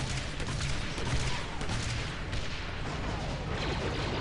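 Rapid blaster gunfire from the video game Star Wars Republic Commando, during a battle to retake a ship from lizard creatures, crackles in a dense, continuous barrage at moderate volume with no clear pauses.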